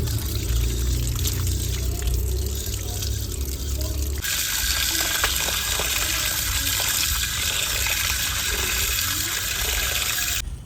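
Chicken pieces being washed in water for chicken pakoras, a steady broadband splashing and pouring wash that runs throughout, loud and close, with no talk over it.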